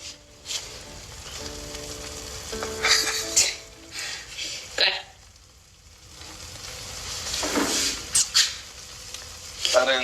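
Eggs frying in a pan at home, a steady sizzle running throughout with occasional clinks of utensils and stirring; a voice briefly speaks over it.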